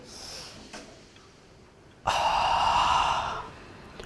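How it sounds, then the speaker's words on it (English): A group of people inhales deeply together at an alumni session, a loud breathy rush lasting about a second and a half after a brief quiet pause. "Take a deep breath."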